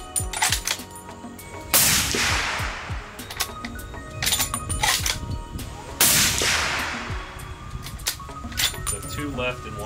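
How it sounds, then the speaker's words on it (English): Two sharp, loud rifle shots from a Howa rifle chambered in .300 Win Mag crack out about four seconds apart at an outdoor range, each followed by a brief ringing decay, with scattered clicks and handling noise between them. "We're gonna shoot these last three rounds."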